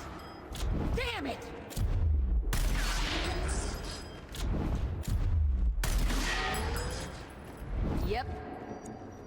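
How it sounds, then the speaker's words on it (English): Sniper rifle fire in Gears Tactics, with heavy booming shots and crashing impacts in a few loud bursts, mixed with game effects and voices talking over them. "Once again, sniper at work."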